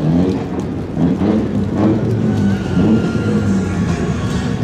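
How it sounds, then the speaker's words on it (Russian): A rally car's sporting engine roars loudly and steadily at close range, holding a deep, rough growl throughout with slight swells in revs, no talking over it. "Почему машина так громко рычит?"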